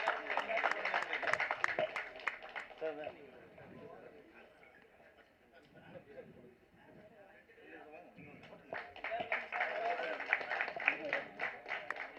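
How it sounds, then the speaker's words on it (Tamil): Audience applause at a film audio and trailer launch event, with scattered clapping swelling, fading under a lull of crowd murmur, then building again into a loud, dense round of clapping. "ஒரு பெரிய கைத்தட்டல் கொடுத்து சாரை வரவேற்கலாம்."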